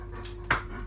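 A dog in a kitchen gives a short, close whimpering whine over soft panting breaths, brief and fairly quiet against a low background hum.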